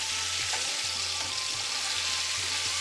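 Ginger and garlic frying in a pan for a British Indian restaurant chicken korma, a steady close sizzle with light stirring taps and no talk.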